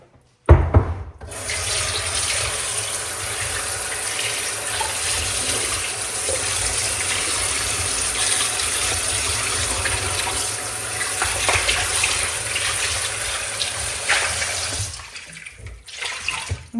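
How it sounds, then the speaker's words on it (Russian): A kitchen tap runs hard and steady for about fourteen seconds, cooling marinated pork feet under the stream; the close, splashing rush starts abruptly and cuts off near the end, with no talk. "Теперь мы охлаждаем под водой."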